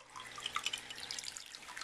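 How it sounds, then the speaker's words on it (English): A submersible water pump moving water, heard as a soft continuous trickling and splashing with small bright drips, fairly close and without voices. "we have a submersible water pump"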